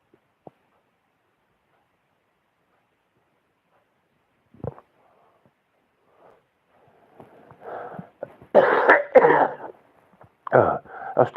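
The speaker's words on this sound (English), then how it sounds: "I've still got a bit of a cough." Silence broken by a few faint clicks, then a burst of coughs and throat-clearing sounds close up toward the end.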